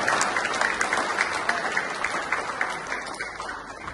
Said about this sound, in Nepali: उहाँको श्रीमती बहिनी सम्झनालाई पनि र चिया र केकको लागि हामी उहाँहरूलाई पनि धन्यवाद ताली बजाएर धन्यवाद दिन्छौँ।